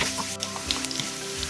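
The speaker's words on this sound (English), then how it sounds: "Garlic is turning brown." Chopped garlic sizzles and fries in a pan with mustard seed and curry leaf in the oil, a steady close crackle with small pops and a little stirring throughout.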